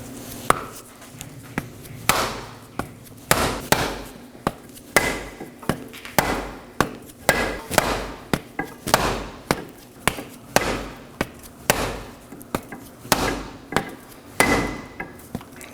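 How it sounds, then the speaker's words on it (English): A rubber mallet strikes the axle of a 2018-2024 Chevrolet Equinox to seat its snap ring in the rear differential, giving a steady run of sharp, close thuds about one a second with short ringing tails and no talk. "I'm going to be hitting the other side with a rubber mallet to ensure that snap ring fully locks in the differential"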